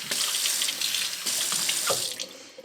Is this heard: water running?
yes